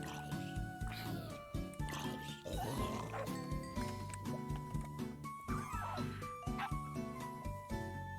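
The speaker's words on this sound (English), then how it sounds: "having more than that's plenty of dogs" Dogs in the Minecraft video game give small yips and whimpers amid a busy, continuous game soundtrack of music and effects, with no clear separation between the animal sounds and the rest of the mix.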